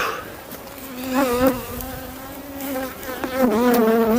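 Honeybees buzz and whine close by as a hive is split to make an artificial swarm. The swarm's hum rises and falls with individual bees passing near, and there is no talking.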